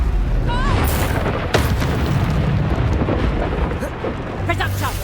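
A Confringo spell explodes in the video game Hogwarts Legacy with loud rumbling booms, one sharp blast standing out. Shouted voices sound over the explosions.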